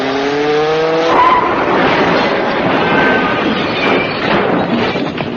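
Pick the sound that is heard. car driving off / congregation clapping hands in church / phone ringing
car driving off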